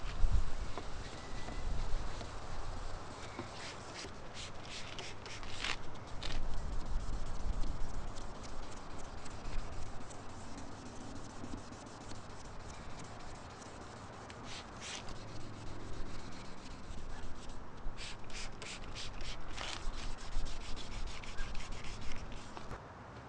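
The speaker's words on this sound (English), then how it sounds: "once you're done with the 1000 grit sandpaper, wet sand" Car headlight lens being wet sanded with 1000 grit sandpaper, a continuous soft rubbing and scrubbing with brief rhythmic gritty strokes, close and fairly quiet.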